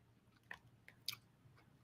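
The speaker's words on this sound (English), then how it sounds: "If I'm chewing loud, y'all, I'm sorry." A person chewing food loudly at close range: a few separate wet, crunchy bites spread over about two seconds, quiet overall, with no talking.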